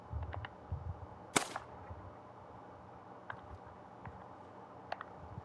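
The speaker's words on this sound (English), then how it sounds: "Should have been a good shot, and it was." A single sharp gunshot cracks once from a hunting rifle in The Hunter: Call of the Wild, standing out loud and crisp above quiet outdoor ambience with a few faint clicks.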